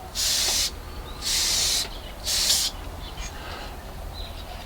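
Three loud, close bursts of Tamiya spray primer hiss onto a model, each about half a second long and evenly spaced, followed by quieter faint sputters.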